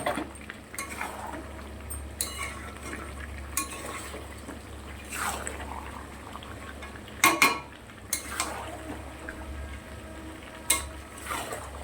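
Chicken is stirred and sautéed in a pan, with a soft continuous sizzle under repeated scraping and clinking strokes of a utensil against the pan, a few louder knocks standing out.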